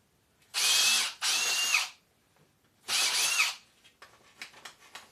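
Power drill running in three short bursts, a whining motor that rises and spins down each time, close and loud, followed by light handling clatter.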